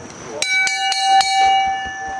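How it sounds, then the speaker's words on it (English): A wrestling match bell rings four quick clangs in a row, each leaving a long bright metallic ring that hangs on and slowly fades, loud and close with no talking. "Ring that bell."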